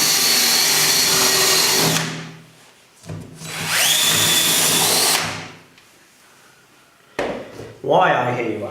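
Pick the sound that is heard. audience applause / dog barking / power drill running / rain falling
power drill running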